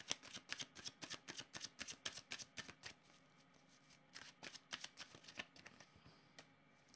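Tarot cards are shuffled in a steady run of quick, crisp riffling flicks, close and fairly quiet, with a brief pause before the shuffling resumes.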